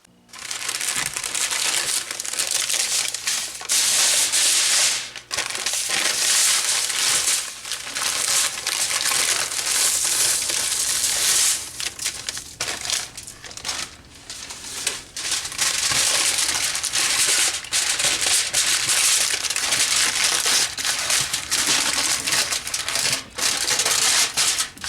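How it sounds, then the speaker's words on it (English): Aluminum foil is wrapped tightly around a raw beef brisket, several times, giving loud, close crinkling and crushing that runs almost continuously with short pauses between handfuls. "I'm going to wrap this tightly in aluminum foil a couple times, really good"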